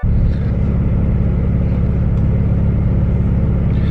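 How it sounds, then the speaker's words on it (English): A car idles and rolls up to a car wash with a loud, steady low engine rumble throughout and no talking. "we just pulled up to the car wash"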